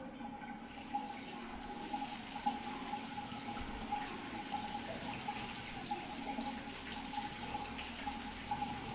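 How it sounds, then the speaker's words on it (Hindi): Hands are washed under a running tap with clean water, a steady close hiss and splash of flowing water lasting throughout, with no talking. "फिर उसके बाद साफ पानी से उसको धो लो।"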